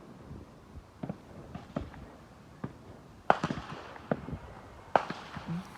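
Fireworks pop and bang at an outdoor Canada Day celebration, with several sharp, moderately distant bursts scattered irregularly over a quiet background and no talking.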